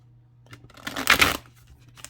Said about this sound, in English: I'm having trouble like shuffling the top part